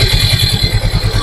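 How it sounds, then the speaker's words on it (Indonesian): A repaired Yamaha Mio M3 scooter engine idles steadily just after starting, a close, even low putter with a rapid regular pulse and a light mechanical clatter on top. "mesin udah hidup, udah normal"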